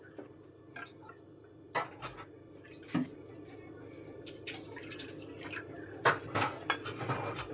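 Water poured onto sugar in a cooking pot to make syrup for raw mango pantua, with light clinks of a bowl and utensils against the pot and soft splashing, close and fairly quiet, no talking.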